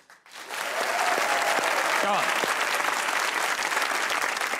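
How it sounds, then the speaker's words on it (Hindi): Studio audience applause on a comedy talk show: dense, loud clapping swells within the first half-second and holds steady to the end, with a brief voice surfacing faintly partway through. "अगर आप लोग भी दूसरों को खुश देखना चाहते हैं तो तालियां बजाइए"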